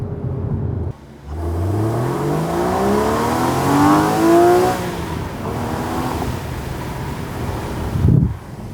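A race car at Road America roars past, its engine note climbing steadily through the gears as it accelerates, loud and close with heavy wind buffeting, then a brief drop and a sharp burst near the end.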